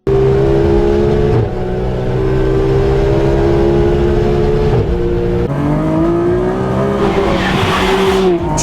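A Nissan Skyline GT-R R33 engine revs loudly up close, its tone climbing in repeated steps and briefly dropping back between pulls, with a gritty rasp over a deep exhaust drone.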